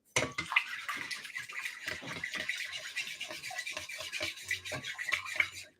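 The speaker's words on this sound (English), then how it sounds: "at this point, we are going to mix our starter and our water together." Sourdough starter being stirred together with water in a bowl, a continuous wet scraping and sloshing that runs steadily at close range with no talk.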